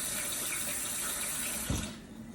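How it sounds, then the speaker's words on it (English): Water from a kitchen tap running steadily over a strainer in a sink, a continuous close rushing splash that shifts near the end as the flow changes. "I'm going to rinse out my strainer a little bit because I don't want all that juice"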